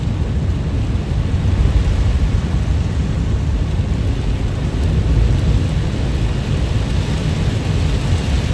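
Heavy, steady downpour from a supercell thunderstorm near Seymour, Texas, a dense continuous roar of rain on a car, loud and unbroken with no talking.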